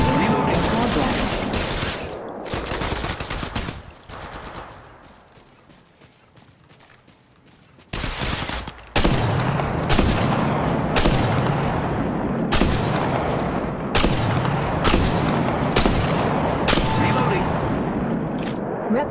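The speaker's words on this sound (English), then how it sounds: "Opening fire on the enemy." Gunfire in the mobile shooter Apex Legends Mobile, loud and close: a burst of firing at the start, a quieter lull, then a rapid string of repeated sharp shots with no talk.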